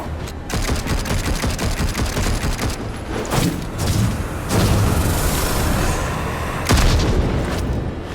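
Fire ammo shots blasting in Darksiders Genesis, loud rapid bursts of gunfire and booming impacts rattling almost continuously, with heavier blasts standing out now and then.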